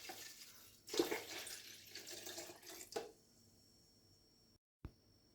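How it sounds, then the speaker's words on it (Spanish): Half a litre of water is poured onto raspberries in a food processor, a soft, close splash and trickle over the first three seconds that fades to quiet, ending with a short knock. "Colocamos los frutos en la procesadora. Le agregamos medio litro de agua."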